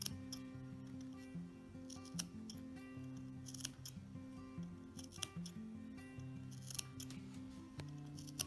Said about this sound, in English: If you want to, you can trim away some of the excess material here.